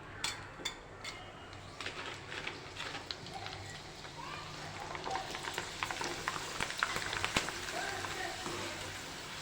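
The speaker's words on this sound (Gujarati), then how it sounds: "તો આવી રીતે આપણે બધી વેફર તળી લઈશું." Thin potato wafers fry in hot oil with a steady, dense sizzle and crackle that holds fairly quiet and close throughout, swelling slightly toward the end.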